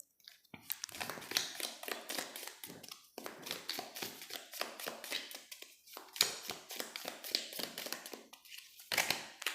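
Tarot cards being picked up, shuffled and handled close by in a quiet room, with soft repeated taps and rustles in an uneven rhythm.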